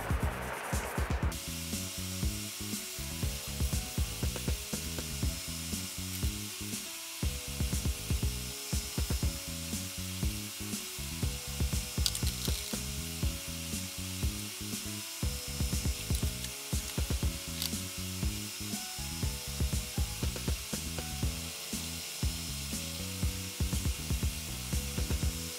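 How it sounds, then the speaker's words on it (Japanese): A 600-grit sanding sponge rubs over the plastic body of a Tamiya NSX Type R model car kit, scraping in quick repeated back-and-forth strokes that continue close up and fairly loud, with no talking. "このマジックヤスリの600番から、600番使って削っていきます。"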